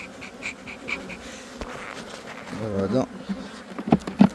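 Honey bees drone and buzz steadily at an open hive during spring frame work, with a voice speaking briefly over the hum and some closer handling noises toward the end.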